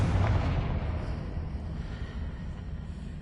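A Confringo blasting spell in the video game Hogwarts Legacy lands as a loud, deep boom that rolls into a long, fading rumble, with no voices over it.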